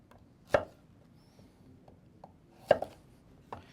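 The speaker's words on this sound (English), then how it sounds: "try to slice them as thin as you can" A knife cuts on a cutting board while white and red vegetables are halved and sliced as thinly as possible, giving a few sparse, sharp taps against quiet room noise.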